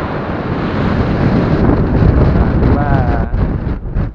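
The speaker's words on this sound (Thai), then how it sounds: "แต่ด้านบนเนี่ยนะฮะลมจะค่อนข้างจะแรงทีเดียวนะครับ" Strong wind buffets the microphone at a high viewpoint above the Rayong River, a loud continuous roar that swells and gusts without letup for several seconds.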